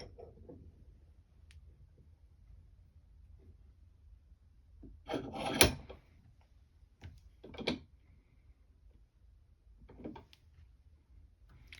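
A screwdriver workpiece being repositioned in a bench vise for gunsmithing fitting, heard as a few brief, quiet knocks and rubbing scrapes in a hushed workshop, the loudest clunk near the middle and a couple of lighter taps after.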